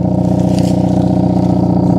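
Loud, steady exhaust drone from a 2022 Hyundai Kona N, its engine holding a constant low rumble for two seconds with no voices over it.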